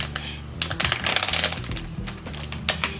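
Tati Beauty Blendiful product packaging being torn open by hand, a close run of sharp crinkling, ripping and tapping bursts with no talking.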